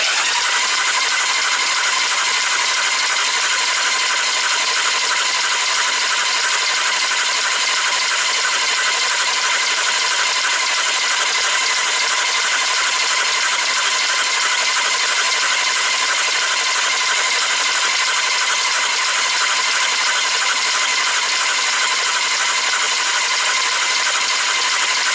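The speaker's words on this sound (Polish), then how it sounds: "Więc ja teraz zakręcę silnikiem na sucho," Honda GL1200 Goldwing engine cranked dry by the starter with the spark plugs removed, a steady, even mechanical whir and rapid ticking rattle that continues unbroken for the whole stretch.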